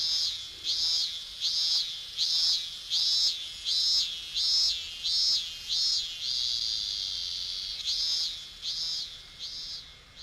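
Steady pulsing cricket chirps in the video game If My Heart Had Wings, evenly spaced trills repeating over quiet ambience, fairly close and unbroken apart from a short pause.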